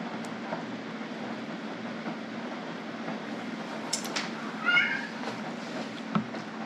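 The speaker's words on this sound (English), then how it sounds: "I have a cat who thinks he's gonna starve any second." A hungry cat meows in a kitchen during cooking, giving a short, fairly faint cry over a low steady background hum.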